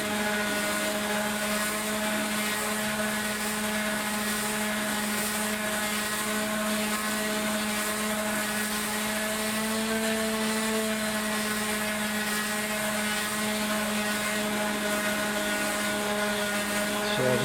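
A wooden stave drum shell is sanded smooth with a power tool, a continuous motor whine with steady tonal hum, loud and even from start to finish with no voices.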